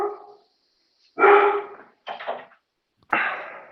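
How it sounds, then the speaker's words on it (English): Puppies barking in three sharp separate bursts, loud and close, each bark trailing off, with no talk over them. "that's Mason's puppies."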